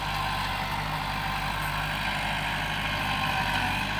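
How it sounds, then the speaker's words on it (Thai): A Kubota L5018 tractor engine runs steadily near the microphone while pushing soil, its low, even rumble continuing without pause and with no talk over it. "มาเก็บงาน กับรถไถ L 5018"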